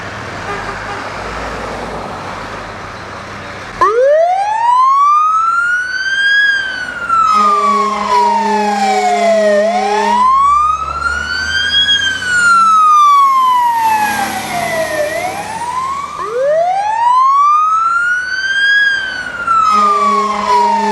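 A rural fire department truck siren in Buffalo wails up and down in repeated long sweeps, loud and close, with deep air-horn blasts between the wails and traffic noise underneath.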